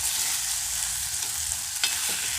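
Kenyan githeri with crushed tomatoes and carrots is stirred in a hot pot, a steady sizzling hiss with a sharper scrape near the end, close and without talk.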